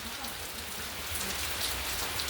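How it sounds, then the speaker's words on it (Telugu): Rain falls on grape vines as a steady, even hiss of drops patter, soft and continuous, with no voices. "మా ద్రాక్ష తీగల మీద నుంచి వర్షం ఎలా పడుతుంది"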